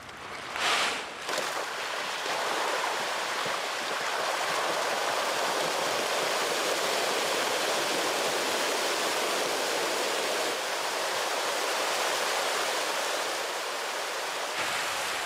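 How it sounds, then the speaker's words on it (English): Hundreds of thousands of panga fish thrash in crowded farm ponds at morning feeding, making a dense, continuous rushing splash like churning water that holds steady and loud for the whole stretch. "watch the show while the fish have their breakfast"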